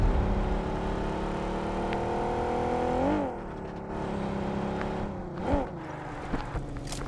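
Car engine droning steadily while driving in PUBG, loud and continuous with a revving pitch sweep near three seconds and another around five and a half seconds, then easing to a lower hum.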